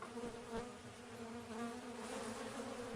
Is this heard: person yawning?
no